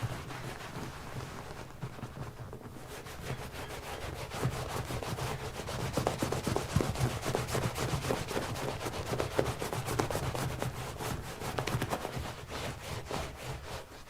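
A rag rubbed over a wood finish on a furniture back panel gives steady, close scrubbing strokes that run continuously and grow a little louder partway through, with no voices.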